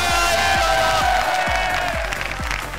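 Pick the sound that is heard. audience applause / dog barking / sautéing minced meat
audience applause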